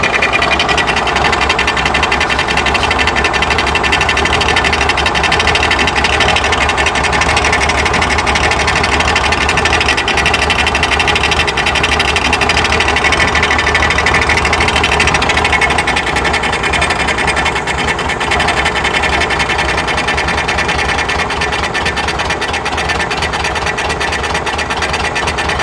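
A 1979 VW Super Beetle air-cooled engine, converted from L-Jet fuel injection to dual carburetors, idles very low and steady for the whole stretch, a loud, close, rhythmic mechanical chatter with no talking over it.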